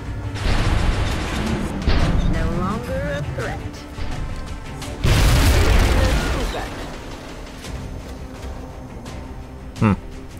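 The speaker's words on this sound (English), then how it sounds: "I guess it's just a one tile radius explosion" Explosions in XCOM: Enemy Within, two heavy booming blasts a few seconds apart with crackling debris after each, followed by a short sharp pop near the end.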